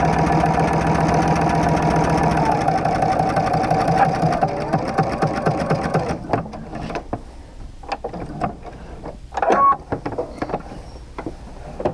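A sewing machine quilting straight lines with a walking foot hums steadily for several seconds, then stops, leaving quieter clicks and handling noises of the quilt being adjusted.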